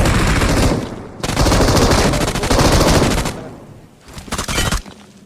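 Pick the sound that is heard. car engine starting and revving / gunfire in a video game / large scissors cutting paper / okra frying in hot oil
gunfire in a video game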